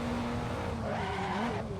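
A race car in an Assetto Corsa sim race at Mugello squeals its tires under locked brakes. A wavering tonal screech rides over a continuous engine drone.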